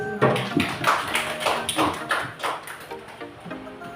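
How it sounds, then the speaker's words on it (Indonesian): An audience of teachers and parents at a school principal's vision-and-mission presentation claps in a steady rhythmic pattern, loud and close, with voices blending into the beat. "Tepuk tangan Bapak Ibu"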